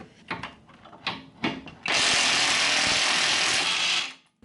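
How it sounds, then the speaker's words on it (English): Impact wrench run on the strut end link nut of a 2007 Mini Cooper S, after a few clanks and taps, then a loud continuous whirring buzz for about two seconds that stops abruptly. "hopefully, if I'm lucky, the nut will just come right off with the impact wrench"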